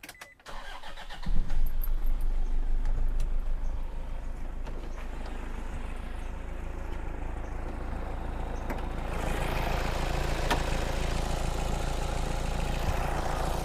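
A restored 2005 Toyota Innova 2KD diesel engine cranks and starts, then settles into a steady, smooth idle that runs on close by with no talking.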